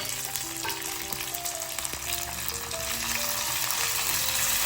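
Garlic and green chillies sauté in a pan for a bilimbi pickle, giving a steady dense sizzle with faint scraping stirs, up close and with nobody talking.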